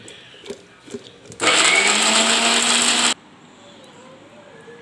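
Kitchen mixer grinding onion, ginger, coconut and salted mango into chutney, one loud burst of just under two seconds that stops abruptly, with quiet clinks before it and near-silence after.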